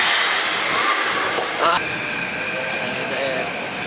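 Rumble and rattle of a moving train carriage fill the ride, a loud, steady roar with a brief metallic squeal partway through, while people talk under it.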